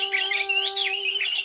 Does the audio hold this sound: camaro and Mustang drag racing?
no